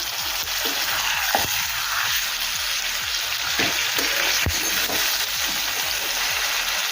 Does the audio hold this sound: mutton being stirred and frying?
yes